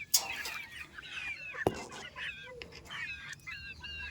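Chickens brought for sale on a farm, roosters and hens, cluck and squawk in short, irregular calls, fairly close, with one sharp louder call midway and quieter chatter continuing throughout.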